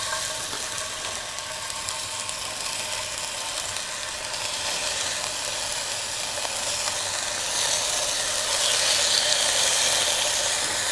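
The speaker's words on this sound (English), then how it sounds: "Now we're gonna get this meat and we're gonna cook it off." Thinly sliced meat searing over high heat on a Snow Peak GS-600 burner, giving a steady close sizzle and hiss that grows louder toward the end, with no talking.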